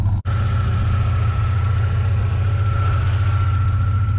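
An Audi petrol engine with its silencer removed idles with a deep, steady, throaty rumble, loud and close, running evenly throughout.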